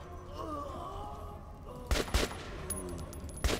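Gunfire in the Metro 2033 Redux video game comes as a quick pair of sharp shots followed later by one more, punching over quieter game ambience and a faint voice-like murmur.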